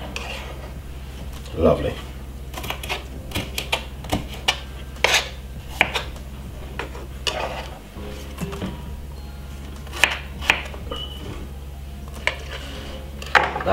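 A small, very sharp knife slices salad ingredients on a board, producing scattered sharp taps and cuts up close, with someone talking now and then over a steady background hum.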